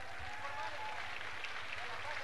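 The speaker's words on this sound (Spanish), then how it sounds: "un aplauso" A crowd applauds a women's football team from La Paz at a school equipment handover ceremony in Cañamina. The clapping is faint and distant and blends into a steady wash of crowd noise, with murmuring voices underneath.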